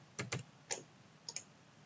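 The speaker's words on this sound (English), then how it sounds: "So you can just type the student metric number." A few quick keystrokes on a computer keyboard, close and fairly quiet, come as a short burst of two taps, one more, then a final pair as a student matric number is entered.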